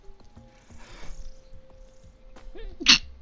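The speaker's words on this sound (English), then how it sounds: "Bit of a sneeze." A single sharp sneeze from a person indoors, a short loud burst near the end of a quiet stretch with faint background sounds.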